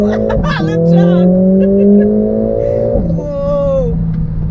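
A Mercedes-AMG A45 S with a two-litre engine accelerates hard, its engine note climbing steadily and strongly close by before a gear change and a renewed rise, with people talking and exclaiming over it inside the car.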